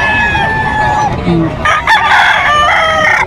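Roosters, including a white Kelso gamefowl, crow loudly at a gamefowl market in Bocaue, with overlapping crows from several birds close by against a busy crowd background.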